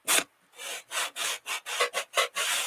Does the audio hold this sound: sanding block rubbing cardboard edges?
yes